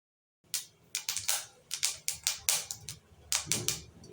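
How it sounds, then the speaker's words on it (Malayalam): Mustard seeds pop and splutter in hot oil in a pan while cooking a Tamil Nadu style kara kuzhambu: a dozen or so sharp, irregular crackles and bursts, close and fairly loud, with no talking. "1 ടീസ്പൂൺ കടുക് ഇട്ട് കൊടുക്കാം."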